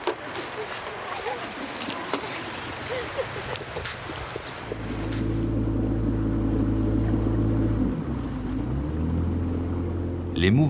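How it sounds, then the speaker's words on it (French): Outboard motor on a motorized dugout canoe among the Kuna islands of Panama's archipelago, a steady low drone that starts about halfway through and holds loud and near, with wind noise and water sounds earlier. "La pirogue à moteur est un outil indispensable pour pouvoir circuler."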